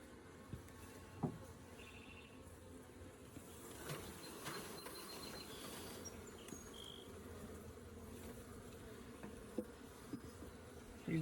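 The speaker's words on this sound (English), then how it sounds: "Lots of bees on the bottom of that." A dense, continuous buzz of many honeybees from a swarm being caught fills the air, steady and close, with occasional louder individual buzzes passing near and some light handling clicks.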